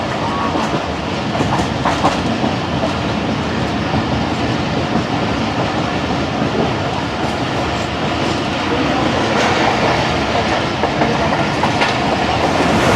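Musa Pak Express passenger train running at speed past Pir Ghaib railway station between Multan and Lahore, a loud continuous rumble and rattle of wheels on track with clickety-clack, heard from on board without a break.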